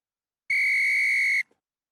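A single sharp referee's whistle blast lasting about a second during a men's 15s rugby union national championship match, loud and clear over quiet background.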